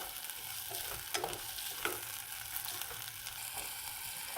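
Red pepper fries in a pan for a bulgur pilaf, a soft continuous sizzle broken by occasional scrapes and taps of a stirring utensil, fairly quiet with no talking.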